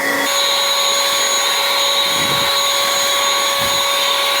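A DeWalt 60-volt battery-powered leaf blower running steadily at close range, a loud continuous high-pitched whine with a steady airy roar throughout.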